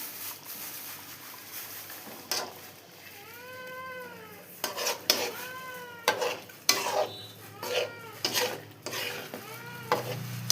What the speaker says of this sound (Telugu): అందులో కొంచెం పసుపు పొడి వేసుకొని కలుపుకోవాలి.